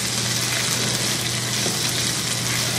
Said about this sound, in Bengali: এই আলুগুলোকে আমি এর সাথে একটু ভেজে নিব।